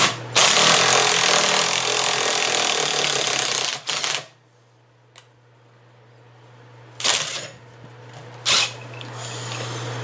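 An impact driver fitted with a 19mm socket works loose the collar on a Yugo SKS rifle, giving a loud, dense rattling burst for about four seconds, then two short, sharp bursts later, with a steady low hum in between.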